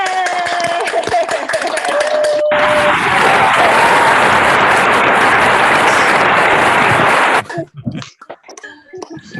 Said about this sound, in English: I would like you to hear the kids clapping.